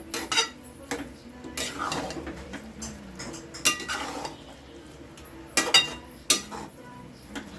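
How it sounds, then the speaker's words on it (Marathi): Grated bottle gourd sautéing in ghee in a pan for halwa, with sharp spoon clinks and scrapes against the pan at irregular intervals over a soft background sizzle. "हा तुपामध्ये ना व्यवस्थित असा परतून घ्यायचा"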